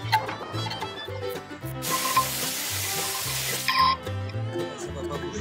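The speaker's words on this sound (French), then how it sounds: "je ressoude un écrou au cadre" Welding a nut onto the frame of a Yamaha PW80 motorbike, a bright crackling arc hiss that builds for about two seconds amid steady background music, loud and close.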